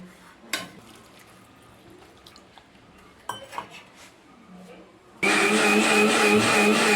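A kitchen mixer grinder blends a small coconut into a fine paste for Palakkad-style pulingarry, kicking in loud and steady after quiet clinks and handling noises.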